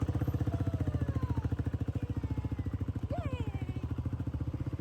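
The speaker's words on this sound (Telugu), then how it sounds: "ఇంకా మళ్ళీ బైక్ మీద వెళ్తున్నాము" A motorcycle engine runs steadily at close range with a pulsing, throbbing rhythm, and a brief rising whine cuts in partway through.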